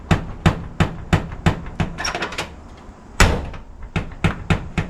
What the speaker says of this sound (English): no matter what you do with the door, it will not close completely